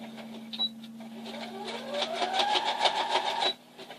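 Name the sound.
sewing machine back stitching a toddler's skirt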